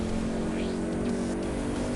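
A 1.4 liter car engine in GT Sport revs steadily at a constant pitch, loud and close, with a faint rising whine, without any voices.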